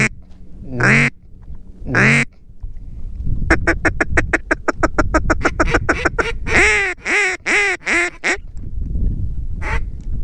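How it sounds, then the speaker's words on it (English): Ducks on public hunting land in Louisiana during duck season, quacking loudly and close in repeated rapid bursts, with a few long calls near the start and a run of clustered quacks, heard alone without talk. "That was some bigger ducks."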